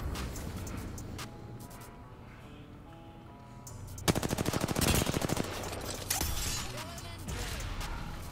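Gunfire rings out during a ranked Arenas sudden-death match in Apex Legends, where a 30-30 rifle is in play. Scattered shots come first, then a dense rapid burst of fire, followed by further clatter, with voices heard alongside.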